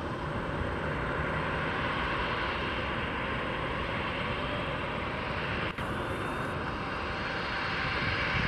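An Eastern Airlines Boeing 737-800 powers up its jet engines for takeoff on runway 24 left at Montreal, a steady, broad roar heard from a distance with no voices over it.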